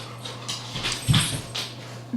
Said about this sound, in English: Sorry for all the dog noise.